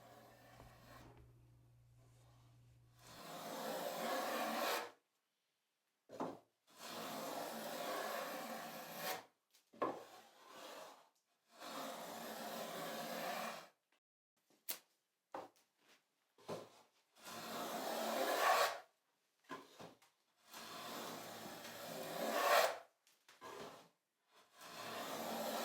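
A hand rabbet plane with a fence cuts a rabbet along a wooden door frame, giving a series of about a dozen short rasping strokes separated by quiet pauses, close and fairly soft.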